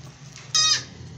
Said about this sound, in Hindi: टैडी बकरी है, चलाएं इसको